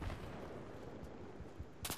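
A rapid burst of gunfire in Battlefield 3 Conquest mode crackles continuously with dense, repeated shots, mid-distance and fairly loud, ending in a sharp hissing blast.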